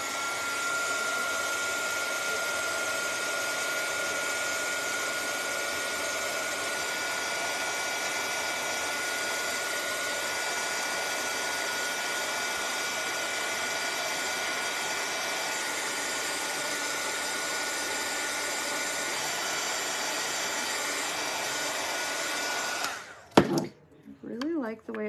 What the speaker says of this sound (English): I'm gonna hit it with a dryer.